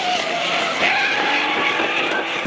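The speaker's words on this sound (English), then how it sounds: "Trying to hear the turbo, guys." A turbocharged car drifting, its tires squealing and the engine roaring steadily from inside the cabin, with a whining high-pitched tone running through the continuous noise.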